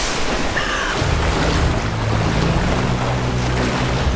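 Lara Croft slides down a river in the 2013 Tomb Raider game, with a steady rushing of water and wind and a low rumbling drone under it, loud and continuous.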